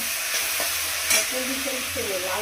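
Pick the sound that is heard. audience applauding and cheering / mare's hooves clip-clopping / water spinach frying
water spinach frying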